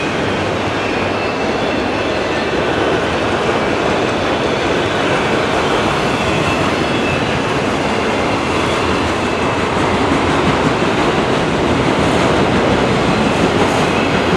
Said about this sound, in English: I see an M384 northbound train